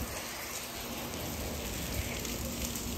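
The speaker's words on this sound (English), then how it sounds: "we just got caught in the rain" Steady rain falling outdoors beside a swimming pool in Cancún, Mexico, a constant broadband hiss of drops on surfaces and water with no breaks and no talk.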